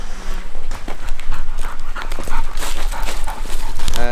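A Wachtelhund hunting dog pants rapidly and close by at a hunting dog trial in Slovakia, with steady loud breathing and a few whimpers over background noise.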